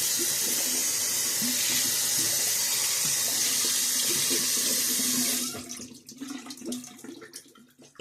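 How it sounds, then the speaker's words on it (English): Tap water runs loudly and steadily into a shaving brush bowl (lather scuttle) in a sink, then cuts off partway through, leaving a few fainter splashes and drips. "I'm just going to rinse out my bowl here."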